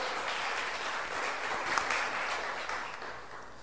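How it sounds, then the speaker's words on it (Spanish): A church congregation breaks into strong, sustained applause, a dense wash of many hands clapping evenly throughout with a slight swell partway through, and no talking. "Dale el aplauso fuerte."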